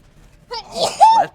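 One close, loud sneeze bursts out after a short inhale during a tabletop board game session.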